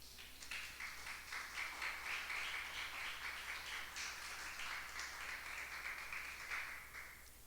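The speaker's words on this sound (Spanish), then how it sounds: "dele un fuerte aplauso al Señor" Church congregation applauds the Lord, a dense, steady wash of many hands clapping at a distance, sustained evenly for several seconds and fading slightly at the end, with no voices over it.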